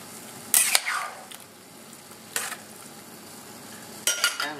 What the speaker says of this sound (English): just get your ladle and just stir it so that the chicken or anything doesn't stick to the base